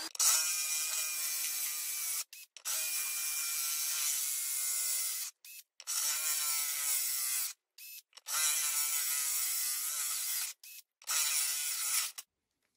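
A diamond core bit drills a hole in ceramic tile, cooled as it cuts. A close, high-pitched grinding whine comes in five bursts of about two seconds each, with short pauses between them.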